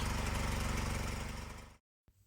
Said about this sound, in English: running an internal combustion engine like this demonstration I did some time ago, using clean, cool syngas